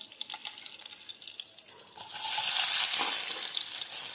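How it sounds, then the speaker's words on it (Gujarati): Cumin seeds, asafoetida and curry leaves sizzle in hot oil for a Gujarati dal palak dish, a light crackle that surges into a loud, sustained sizzle halfway through, with no talking. "તેમાં જીરું નાખીશું હિંગ નાખી દઈશું લીમડાના પાન નાખીશું"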